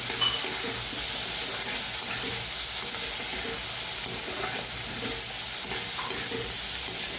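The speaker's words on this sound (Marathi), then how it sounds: "टाकूया कोथांबीर मिक्स करून ह्याला मी भाजून घेऊया" Chopped tomatoes and coriander sizzle steadily in a pan while a spoon stirs and scrapes through them in regular strokes, close and continuous, with no voices.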